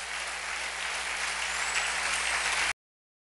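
Steady applause from a church congregation during a Spanish-language service, a full, even wash of clapping that cuts off abruptly, with no talk over it.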